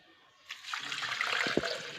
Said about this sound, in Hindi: और इसमें डालेंगे पानी।